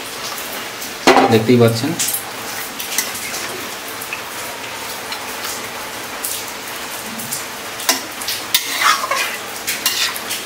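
Potatoes tumble into a pan of frying chicken kosha with a clatter, followed by a steady sizzle and intermittent spoon scrapes and knocks as they are stirred, with brief talk over it.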